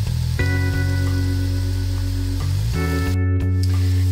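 Sliced onions with ginger garlic paste sautéing in a pan for chicken biryani, giving a continuous close sizzle with a steady hum alongside and a brief stir near the end.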